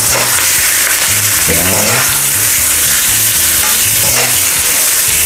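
Beef tenderloin frying in a hot pan, giving a steady loud sizzle with stirring and scraping throughout, a brief spoken word near the start.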